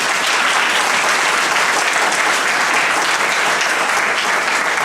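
An audience at a poetry night applauds loudly and steadily, a dense, continuous wash of many hands clapping with no speech over it.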